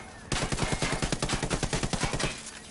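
Sustained automatic gunfire in the Ghost Recon Wildlands video game, a dense rapid rattle of shots from about 0.3 seconds onward, loud and close, with no pauses.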